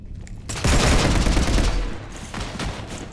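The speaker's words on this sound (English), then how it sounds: "You want to stop shooting up my ship?" Sustained rapid gunfire strafing a starship in Mass Effect 3, a dense roaring burst of shots that rises suddenly, holds loud for over a second, then tapers into a few scattered trailing blasts.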